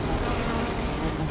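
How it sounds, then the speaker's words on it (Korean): Swarm of giant honeybees, two to three times larger than ordinary honeybees, at a Cambodian wild honey harvest, giving a dense, continuous buzzing drone that fills the clip at a steady level. "자이언트 꿀벌은 우리나라 꿀벌보다 2~3배 크고 독성이 5배 강하기 때문에 자칫 큰 부상을 입을 수 있습니다"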